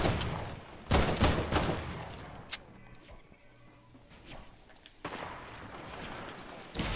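Gunfire in a shooter video game, a few loud close bursts of rapid shots at the start and again later, with quieter gaps between.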